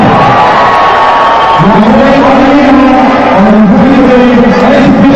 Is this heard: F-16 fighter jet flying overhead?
no